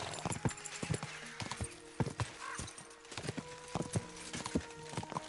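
Horse hooves clip-clop in a steady, regular gait in the video game Kingdom Come: Deliverance 2, a quiet, even rhythm of hoofbeats with no talk over it.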